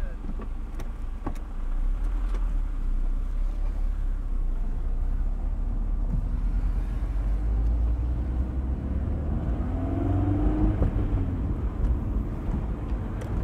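A Honda S2000 AP1 accelerating on the road, a loud steady engine drone with a low rumble and a rising pitch sweep partway through, heard from inside the car.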